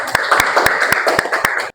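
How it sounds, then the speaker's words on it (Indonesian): A small classroom group claps together for a student after a chemistry lesson answer, a brief burst of close, irregular hand claps lasting under two seconds with no talking. "Oke, terima kasih, tepuk tangan."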